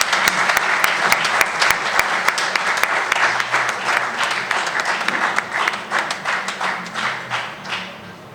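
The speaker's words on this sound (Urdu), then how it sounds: "پلیز تالیاں بجائیے گا" Audience applauding at a book launch ceremony in a tea house: dense, lively clapping from a crowd, loud at first and gradually thinning and fading toward the end, with no speech over it.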